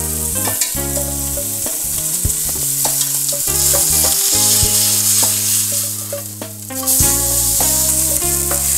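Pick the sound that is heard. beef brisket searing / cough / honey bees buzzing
beef brisket searing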